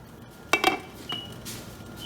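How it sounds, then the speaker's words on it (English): A utensil stirs okra vegetable soup in a pot, giving a few sharp metallic clinks and scrapes against the pot's sides, spaced irregularly over soft background quiet. "let's mix our soup properly."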